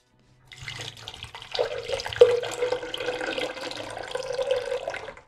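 Water is poured into a container of mint, lemon juice and black salt for a summer sharbat, a steady close splashing stream that rises in pitch slightly as it fills for several seconds.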